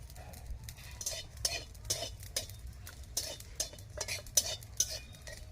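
Whole cumin, dried chilli and bay leaf are dry-roasted in a pan, heard as repeated soft scraping and stirring strokes with faint crackles, close and fairly quiet.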